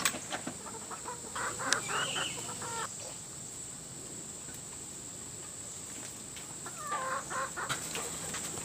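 Hens clucking on a Florida farm, Rhode Island Red, Black Star and Blue Andalusian birds, with two bursts of nearby clucking and squawks against a steady outdoor hiss.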